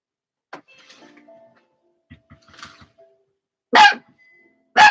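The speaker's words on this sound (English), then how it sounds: "Her bark is so high pitched." A dog lets out two sharp, loud, high-pitched barks close by, after a stretch of quieter rustling and muffled sounds.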